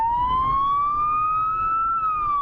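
A loud police car siren wails close by in one long rising and falling sweep, with a low engine rumble underneath, on a national highway in Taiwan.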